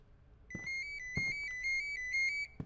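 A phone rings in a horror video game, a repeating electronic ringtone trill in short bursts separated by sharp thumps, fairly quiet and alone.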